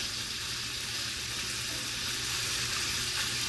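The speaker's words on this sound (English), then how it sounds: "I love fried bacon. It's starting to cook up real good." Bacon sizzles and fries steadily in a pan, a dense, even crackling hiss that carries on without a break and stays close and clear, with nobody speaking over it.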